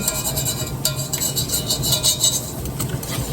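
A spoon stirs and scrapes browned bits of ground beef off the bottom of an enamel cast iron pan, a close, continuous scratchy scraping with faint clinks over a steady sizzling background.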